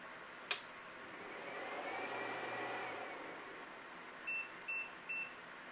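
An AMPEAK 3000W pure sine inverter powering up with no load: a sharp click, a low steady hum over background noise, then three short, evenly spaced electronic beeps near the end. No one speaks.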